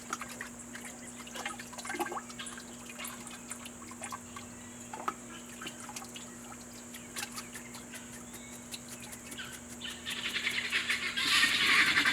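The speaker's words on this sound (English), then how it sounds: "Our guineas." Guinea fowl on a homestead call in scattered chirps at a distance, faint against dripping water and a steady hum, with a louder hissing wash near the end.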